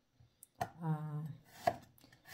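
Ginger being chopped into small pieces on a cutting board for a home-cooked dish, a few sharp knife strikes with a sustained toned sound between them, close and fairly quiet.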